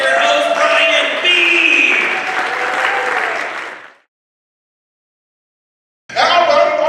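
A comedy show audience applauds its host with steady, dense clapping and some cheering for about four seconds, then silence, then the applause starts up again loudly.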